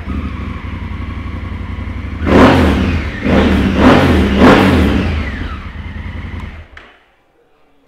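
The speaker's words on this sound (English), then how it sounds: "Full Termignoni system there as well. Sounds mega, give that a start up." A 2016 Honda CRF1000L Africa Twin engine idles steadily, then is blipped three times in loud, raspy revs from a full Termignoni exhaust before cutting off into silence.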